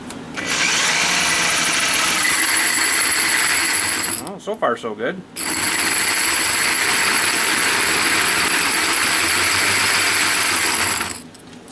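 A 2-inch Milwaukee hole saw drills loudly and continuously through metal plate, pausing once while a person speaks briefly, then resumes grinding until a sudden stop.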